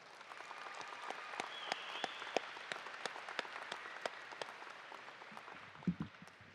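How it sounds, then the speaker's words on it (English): Faint, scattered claps from a high school graduation audience cheering the seniors, sounding as sparse individual hand claps at some distance rather than a full ovation. "How about another round of applause for our seniors?"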